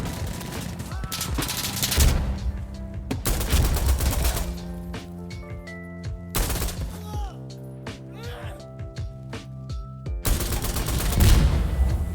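Bursts of G3A3 or FAL battle rifle fire in Insurgency Sandstorm, loud repeated volleys with sharp broadband cracks separated by brief lulls and tonal in-game sounds, no voices.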